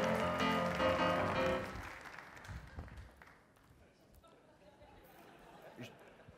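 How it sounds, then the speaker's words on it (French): An audience applauds in a standing ovation for Ludovic Larbaudy, dense clapping for under two seconds that quickly thins into scattered claps and crowd murmur. "on l'applaudit très fort"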